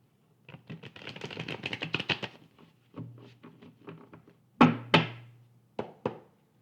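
Tarot cards being shuffled by hand, a rapid riffling flutter followed by several sharp taps and thumps as the deck is squared on a table, close and clear with no talking.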